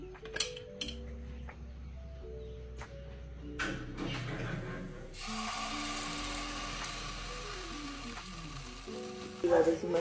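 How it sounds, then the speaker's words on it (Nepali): A pancake fries in ghee in a pan over medium heat, a steady sizzle that swells after the first few seconds, with light clinks and faint voices in the background. "यसमा थोरै घी हालेर म मेरो प्यानकेक बनाउन थाल्छु।"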